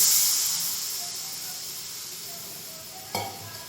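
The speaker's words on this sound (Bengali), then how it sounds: "কষানো হয়ে গেছে, জল অ্যাড করে দিলাম।" Water poured onto a frying rohu fish masala, bursting into a loud hiss of sizzle and steam that fades steadily, followed by a brief clunk of utensil on pan.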